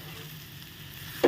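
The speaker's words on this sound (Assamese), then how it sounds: "ইয়াক এবাৰ ভালদৰে লৰাই দিম" Colocasia stems and masoor lentils cooking in a pan over a low gas flame give off a soft, steady sizzle, with one brief louder scrape of stirring near the end.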